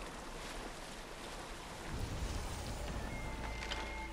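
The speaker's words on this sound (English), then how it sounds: "don't think this boat can take those waves" Ocean waves wash against a boat in the video game Assassin's Creed Odyssey, a faint continuous rushing of water and wind that swells slightly louder partway through.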